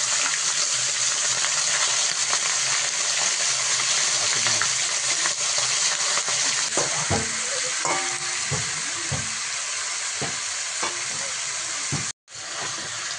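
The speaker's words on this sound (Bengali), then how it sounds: "এবারে মাংসটাকে আলুভাবে তেলে একটু ভেজে নেবো হালকা করে।" Chicken pieces fry lightly in hot oil with a loud, continuous sizzle, joined midway by clattering stirs and scrapes in the pan before the sound briefly cuts out near the end.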